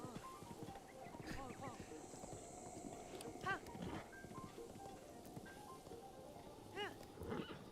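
A horse gallops in Zelda: Breath of the Wild, producing quick, rhythmic clip-clop hoofbeats that run continuously throughout, with other game sounds mixed in.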